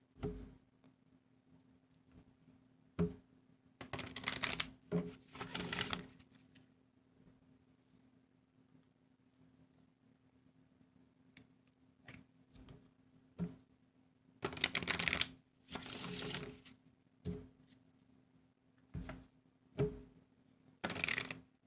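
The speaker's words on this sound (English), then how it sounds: "It wasn't the best shuffle, but I'm gonna keep it." Tarot cards being shuffled by hand in repeated bursts, each a rapid riffling flutter lasting a second or two, separated by quieter pauses with light taps and handling noises.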